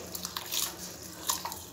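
Washed rice tipped into a pot of boiling water with a spoonful or so of ghee, giving a brief watery splash and pour with scattered drips and bubbling, close and moderately loud.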